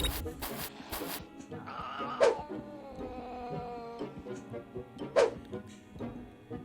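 A cat in the Scary Stranger video game lets out two sharp, harmonic cries a few seconds apart over the game's background music and effects.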